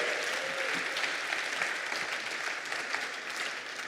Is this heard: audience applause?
yes